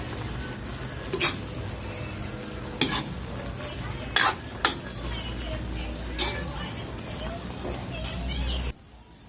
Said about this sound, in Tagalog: Pwede natin haluin.